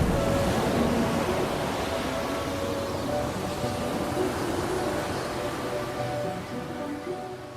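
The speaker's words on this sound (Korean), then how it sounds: "바다는 사납게 파도치고 바람은 미친 듯이 윙윙거렸습니다." Stormy sea effect: waves churning against a howling wind, a steady, dense roar that fills the whole stretch with no voices and only slight swells in strength.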